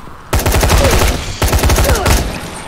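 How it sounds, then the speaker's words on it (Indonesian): Pistol gunfire in the video game Dying Light, heard as two loud, close bursts of rapid repeated shots separated by a brief gap. "kalau gitu kita pakai pistol aja"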